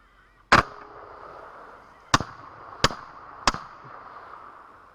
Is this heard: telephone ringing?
no